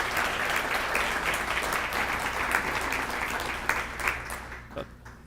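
An audience applauds Apple Valley city councilmembers at a State of the City presentation, with sustained, dense clapping from a roomful of people that carries on steadily and then thins out and fades near the end.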